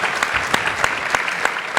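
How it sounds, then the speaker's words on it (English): Loud, close applause from an audience at a labor union gathering of NBA and WNBA players, rapid dense clapping with a few sharper individual claps standing out. "Give Bill Lucy a round of applause"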